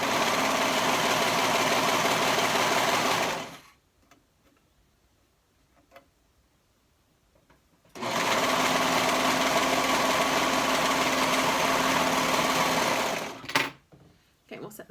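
Home sewing machine stitching a half-inch sleeve seam runs in two long, steady whirring bursts with a fast mechanical ticking, separated by a quiet pause, close by and loud.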